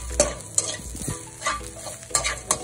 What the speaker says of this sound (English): You keep on frying.